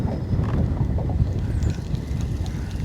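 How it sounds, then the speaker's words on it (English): Strong upstream wind buffets the microphone outdoors by a river during fishing, a loud, continuous low rumble with gusty swells and no speech. "Upstream wind's pretty strong here."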